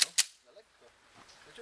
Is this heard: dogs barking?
no